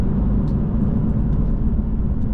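A BMW drives with the exhaust valve and Active Sound Designer switched off, giving a steady, muted low rumble of engine and road noise heard from inside the cabin, with no voices.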